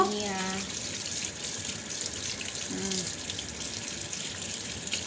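Water from freshly cooked noodles with baby lima beans pours steadily into a kitchen sink, a continuous splashing rush with a brief voice or clatter near the start.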